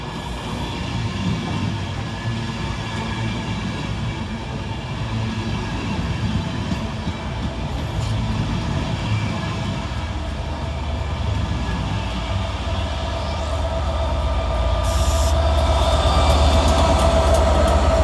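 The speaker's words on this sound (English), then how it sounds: "Next in to arrive pushing stock HD04 is 67008, working the 1440 Transport for Wales service from Manchester Piccadilly to Cardiff" A Class 67 locomotive, 67008, pulls into Stockport station pushing its coaches on a Transport for Wales service, giving a steady loud rumble of engine and wheels that builds toward the end, with faint squeals near the close.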